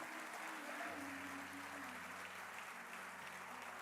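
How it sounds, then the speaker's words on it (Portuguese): Faint, distant applause from a church congregation, a soft continuous patter of clapping that fades slightly, with a low sustained tone underneath. "Alguém pode dar um aplauso ao Rei dos Reis e Senhor dos Senhores?"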